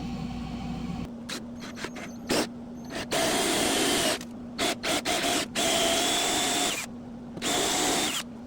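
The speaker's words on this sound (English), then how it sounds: "Now I have to drill the hole for the electrical wire to go through." A power drill boring a hole for an electrical wire during a small bathroom remodel: a loud, close whine in repeated bursts of varying length, separated by short pauses and clicks, all heard alone without talk.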